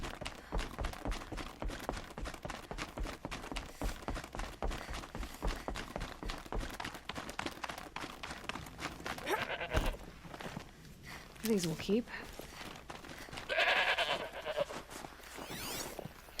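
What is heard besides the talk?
goats bleating in the video game Horizon Zero Dawn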